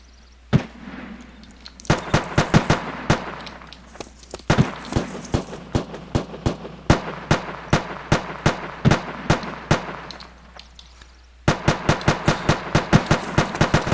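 Gunfire in a survival video game, a loud, close run of sharp shots in rapid irregular bursts with short pauses, each crack ringing over a low background hum, with no talk.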